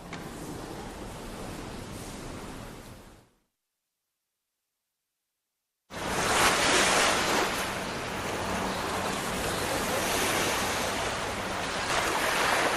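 Mediterranean surf rolls in steadily along the Syrian coast at Latakia, a broad continuous wash of waves with wind. The sound cuts to complete silence for about two seconds, then returns louder.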